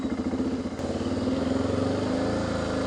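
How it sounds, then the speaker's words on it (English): A motorcycle engine idles unevenly with a steady, close, rumbling pulse, its throttle suspected of an idle fault, and no talk over it. "Having this little bit of an idle problem."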